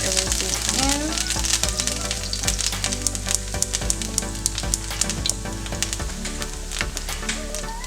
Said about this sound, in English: So first I'm going to add my garlic, and we're just sauteing our seasoning, and add my thyme as well.